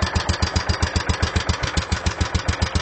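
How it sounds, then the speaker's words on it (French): A Gravely 5660 tractor engine fitted with a new exhaust idles close by, a steady, even, low chugging pulse that repeats without a break. "Ça, c'est un moteur qui tourne bien, qui démarre facilement."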